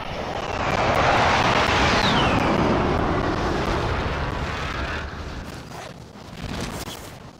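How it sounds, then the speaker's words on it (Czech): A helicopter in the video game Call of Duty: Warzone gives a loud, close engine roar that swells in quickly, holds steady, then eases off before a brief second surge. "Bobo, já vezmu vrtulník."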